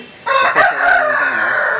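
A Nemali Pula rooster, a yearling of about 2.5 to 3 kg, crows once loud and close, a sharp rising call that holds into a long drawn-out tail.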